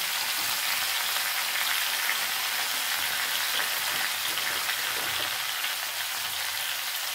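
Cumin, ginger and chilli paste frying in a pan, giving a steady, close, dense sizzling hiss that runs without a break and with no talk.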